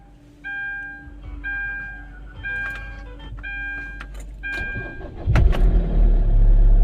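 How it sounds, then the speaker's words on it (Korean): A diesel car sits idle as a series of electronic chimes and clicks sound inside the cabin, then the engine cranks and catches near the five-second mark, settling into a loud, close, rumbling idle. "자, 시동 한번 걸어 볼게요."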